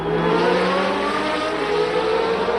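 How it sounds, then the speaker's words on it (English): Formula One race car engines scream at the Detroit Grand Prix, a loud, steady, high-pitched drone that holds without a break and carries no talk. "the screaming engines of Formula One racing cars"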